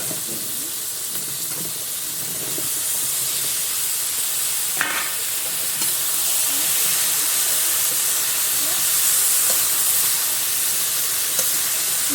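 Sliced eggplant and ridge gourd hiss and sizzle in a pan of cooked-down spices, a steady frying wash that grows slightly louder partway through, with occasional light scrapes of stirring.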